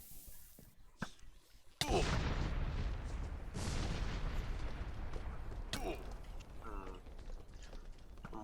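TNT blasts from a cannon built during a Minecraft-style PvP match: one sharp bang, then a long roaring rumble of explosions. A second blast follows a few seconds later, with faint crackle and clatter mixed in.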